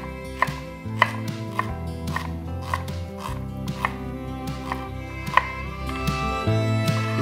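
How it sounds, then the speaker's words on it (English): Fennel tops are sliced with a knife on a cutting board, giving a steady series of crisp chopping knocks, close and clear over a low background hum. "For the fennel, the top part, we slice it."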